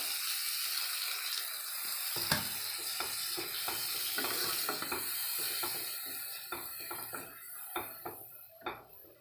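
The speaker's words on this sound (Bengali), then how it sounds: "মশলা থেকে তেল ছেড়ে গেছে এবার আমি একটু জল দিয়ে দেবো" Spice paste for egg korma sizzles in a pan as water is added, a steady hiss broken by repeated close clanks and scrapes of a utensil against the pot, with no talking.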